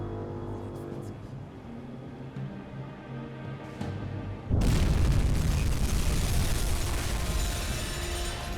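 A torpedo strikes a cargo ship in the UBOAT submarine game: a sudden loud, deep explosion erupts midway and rolls on as a heavy rumbling roar, following a quieter stretch of low ambient hum.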